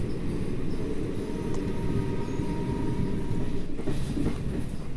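The Amaravati Express train pulls into Gudivada railway station with a steady, heavy low rumble and wheel noise, a continuous moderately loud roar with no voices.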